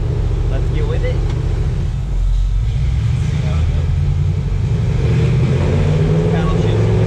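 Supercharged Toyota offroad truck driving with a steady low engine drone and rumble throughout, loud and close as from inside the cab, with a voice talking over it.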